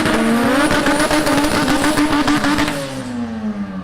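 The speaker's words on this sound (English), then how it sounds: "It looks like it has two Civics that are about to race right now" Import Honda Civics racing at a drag strip in Bradenton, Florida, one engine revving hard and screaming close by, its pitch climbing through gears before trailing off slightly at the end.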